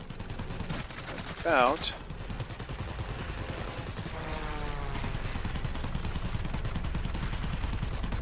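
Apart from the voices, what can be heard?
Bristol Blenheim rear gun firing, World of Warplanes video game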